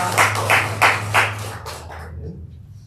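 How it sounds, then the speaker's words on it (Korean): A church congregation at Sunday worship claps in several distinct bursts over a low steady hum, then quickly fades to quiet. "다시 한번 박수하겠습니다"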